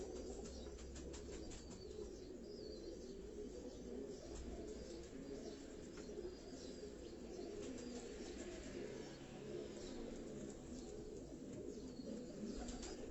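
Rani breed breeder pigeons coo softly in a loft, low murmuring calls overlapping with occasional faint wing flaps and chirps, steady and somewhat distant over a constant background hum.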